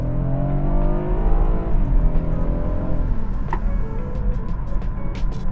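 A BMW 328i wagon drives on freshly installed tires, its engine and road noise steady and close, with harmonic engine tones shifting as it changes speed and light ticking heard over the hum.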